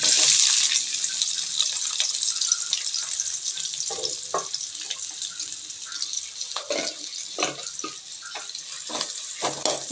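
Two large onions, sliced lengthwise, frying in oil in a pan, giving a steady bright sizzle throughout with intermittent stirring clatters near and fairly loud, no voices.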